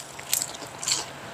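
Crisp crunch of biting into cooled batter-fried chicken, two close crackly bites in quick succession, loud against a quiet room.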